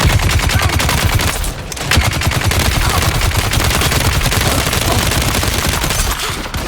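Dense, sustained automatic gunfire in the sci-fi desert game Dune Awakening, loud and close, a rapid rattling burst running almost the whole time with only a brief dip.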